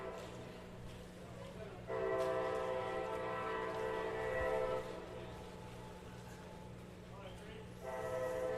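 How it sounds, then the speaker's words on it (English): A train rolls along tracks near a minor-league ballpark in Ozark, Alabama, its horn sounding two distinct sustained blasts at a distance over the low rumble of the cars, with a voice faintly underneath. "Well, obviously, you hear the train tracks nearby, not as close as some of the ballparks I've worked."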